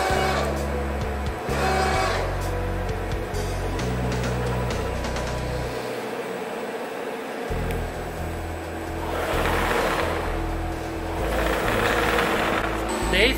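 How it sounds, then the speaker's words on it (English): An AITALMAC ORBIT A5 five-axis bridge CNC stone cutting machine runs with a steady mechanical drone, shifting low-pitched motor tones and a brief drop near the middle, with no speech over it. "You can also control machine with remote, always following the laser for cutting"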